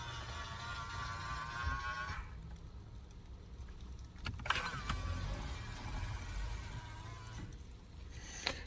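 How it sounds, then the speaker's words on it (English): Power-folding side mirrors on a 2007 Cadillac CTS-V run with a faint motor whir and soft mechanical clicks, heard up close against a quiet cabin hum, starting and stopping a few times. "that is folding mirrors"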